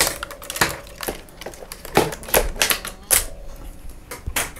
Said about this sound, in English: They're really thick, so you're gonna need a real tool to get them cut.